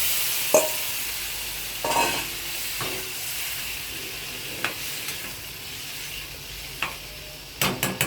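Chickpeas for chole hit a hot pan and sizzle with a steady frying hiss, broken by a few scrapes and clinks of stirring, close up and with no voices.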